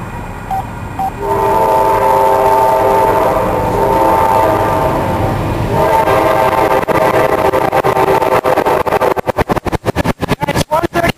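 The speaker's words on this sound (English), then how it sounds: "You hear the horn." Amtrak Sunset Limited passenger train at Post Oak Crossing sounds a loud, sustained multi-note horn over rumbling rails, then the horn fades as cars clatter past in a rapid rhythmic series of wheel clicks.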